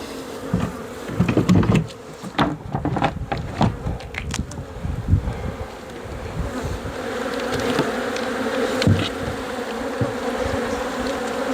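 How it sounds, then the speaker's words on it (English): Honey bees buzz steadily over a hive frame heavy with honey during winterization of a horizontal hive, a dense close drone with scattered sharper passes and handling knocks early on. "So get the bees, if I can see if the smoke will get them off."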